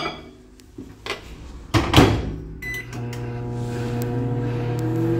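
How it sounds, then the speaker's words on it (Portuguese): A microwave oven runs to melt three spoonfuls of butter: door clicks and a few knocks first, then the steady low electrical hum of the oven running alone. "Agora eu vou derreter aqui no micro-ondas"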